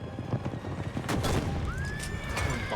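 Horses neigh and run in a video game, a drawn-out whinny rising over steady pounding hooves and gunfire-like booms, loud and busy throughout.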